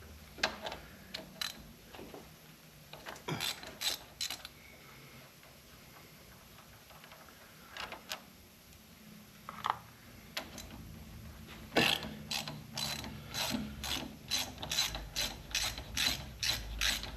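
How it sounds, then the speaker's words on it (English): A ratchet wrench loosening large bolts on a 1913 Walcott lathe, giving bursts of rapid clicking pawl ticks, close and crisp, separated by pauses and growing into a longer steady run of clicks toward the end. "I'm going to take these bolts out here"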